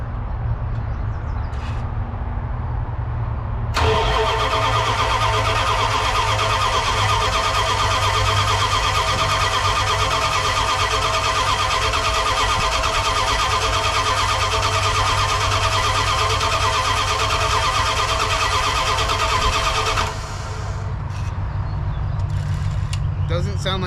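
A Dodge Ramcharger engine cranks without catching, a loud steady whirring starter drone lasting about sixteen seconds before cutting off, with voices talking around it.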